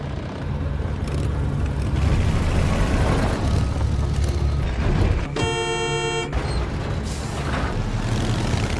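Continuous rumbling vehicle noise with engines droning, and a brief horn-like tone blaring for about a second midway.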